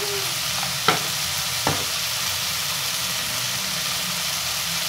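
Karela and onion sabzi with tomatoes and spices sizzles steadily in a pan, with two brief scraping stirs of a spoon standing out over the constant frying hiss.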